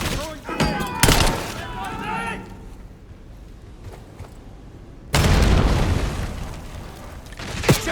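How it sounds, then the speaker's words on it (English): A grenade explosion in a Call of Duty Black Ops 6 campaign mission, a sudden loud broad blast followed by a rumbling decay, preceded by brief voices and gunfire. "Throw a grenade. Throwing grenade."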